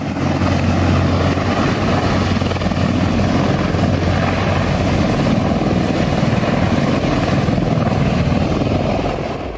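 Military helicopter flying close by, a loud, steady roar of rotor and turbine with a constant low throb, heard alone throughout.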